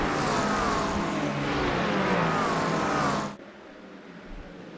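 GT3 race cars from a racing video game run side by side up the hill at Watkins Glen, a loud, dense engine roar that holds steady for about three seconds, then cuts abruptly to a quiet hum.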